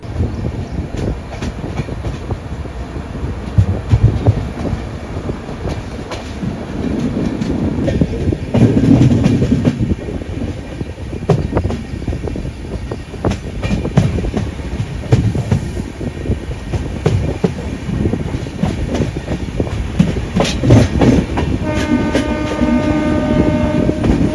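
The Ernakulam–Mumbai LTT Duronto Express rumbles steadily along the tracks, heard from a sleeper-class coach, with rhythmic clattering of wheels over rail joints and a continuous loud mechanical roar.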